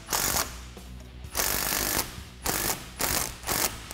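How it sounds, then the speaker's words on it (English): A ratchet wrench with a 15mm deep socket tightening a Jeep Wrangler JK drag link, five loud close bursts of rapid clicking separated by brief pauses, with no voices. "you're going to use the same 15mm deep socket."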